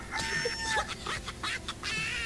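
Chickens cluck and squawk in short, overlapping bursts at close range, with faint background noise and no speech.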